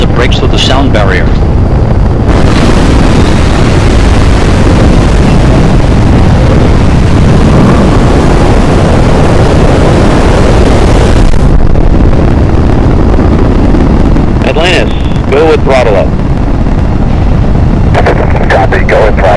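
Space Shuttle Atlantis lifting off with its three liquid-fuel main engines, a loud, continuous, crackling roar that dominates throughout, with brief radio chatter surfacing near the end.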